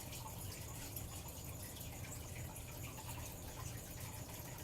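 An aquarium filter and water pump keep water moving with a faint, continuous trickling and splashing that stays even from start to finish.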